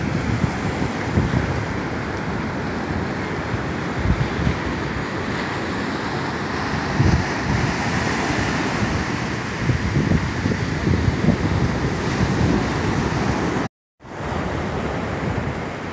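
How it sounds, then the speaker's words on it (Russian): Big ocean waves surge and break on a beach in Da Nang, Vietnam, a continuous loud roaring wash with wind buffeting the microphone, one brief dropout near the end. "Ну волна нехилая идет"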